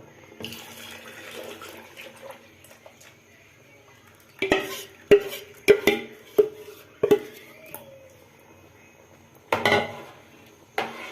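A spoon stirs Palestinian kishk cooked with rice in a pot, producing a series of sharp metallic scrapes and clinks against the pot, some close together, some spaced apart. Low kitchen noise sits between them.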